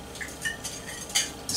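A utensil stirs tomatoes into a farfalle pasta dressing with a few light, close clinks and scrapes against the bowl, quiet and unhurried.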